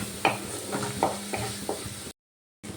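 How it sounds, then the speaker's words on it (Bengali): Spice paste for a ridge gourd curry is stir-fried in a pan, giving a low sizzle with several scraping stirs at a steady pace, close and alone, before a short silence. "একটু মশলাটা ভালো করে কষিয়ে নিচ্ছি"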